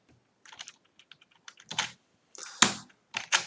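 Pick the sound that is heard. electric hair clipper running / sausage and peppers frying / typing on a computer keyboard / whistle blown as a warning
typing on a computer keyboard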